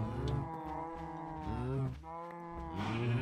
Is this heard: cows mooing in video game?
yes